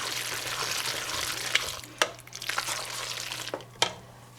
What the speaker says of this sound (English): Mix that all up. Trying to coat the hamburger with the cheese sauce as well.